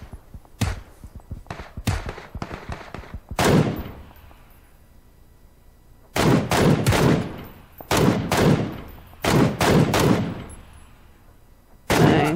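Sniper rifle shots in PUBG crack out loud and close, several sharp reports in irregular bursts with brief gaps between them, each followed by a short rumbling tail.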